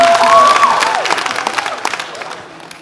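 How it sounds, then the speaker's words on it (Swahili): A studio audience at a TV show applauds and cheers for the children, a loud burst of clapping and whoops that gradually fades over a few seconds. "Makofi yao."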